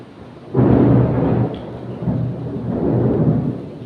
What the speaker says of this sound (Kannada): ಹೊಲದಾಗ ಮಳೆ ಬರ್ತಾ ಇದೆ